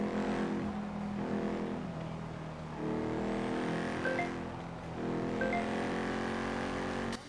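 A video game car engine revs hard and accelerates away from police, its pitch climbing in repeated surges with brief gear-change dips. It sounds loud and close and runs almost unbroken, with no talking.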